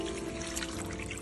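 Water poured steadily into a pot of stewing beef tongue, a continuous close pouring rush lasting throughout with no talk.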